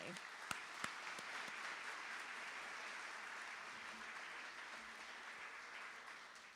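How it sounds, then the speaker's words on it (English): Audience applause for graduates' families at a senior awards ceremony, a steady dense wash of clapping from a large crowd that fills the whole stretch, with a couple of sharper claps standing out near the start. "Give a round of applause for your family."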